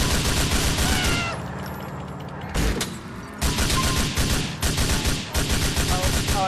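Sustained gunfire in Grand Theft Auto IV multiplayer, loud rapid shots and bursts that run almost continuously with a short lull near the middle.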